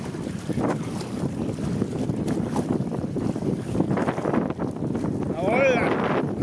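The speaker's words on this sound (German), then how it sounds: "Jawohl, da kommt noch mal eine Böe." A wind gust buffets a sailing boat under way, a broad steady roar of wind over the hull and water throughout, with some rustling and brief creaking near the end.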